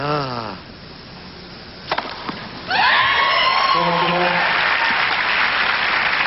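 Tennis crowd at the 1996 Indianapolis final between Sampras and Ivanisevic applauding an ace: a few faint sounds, then a loud, sustained burst of clapping with cheers and voices that keeps going to the end.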